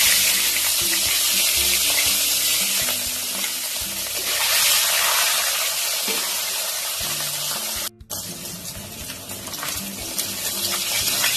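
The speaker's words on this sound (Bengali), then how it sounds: "বাদ বাকি মাছগুলো ভেজে নেব।" Pieces of katla fish fry in hot oil, producing a loud, continuous close sizzle with a brief break partway through before the crackling resumes; no speech.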